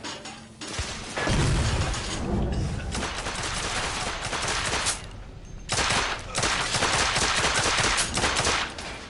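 A smoke grenade is thrown amid heavy gunfire in the video game The Order: 1886, with dense, loud bursts of rapid shots and crashing impacts that roll on almost without pause.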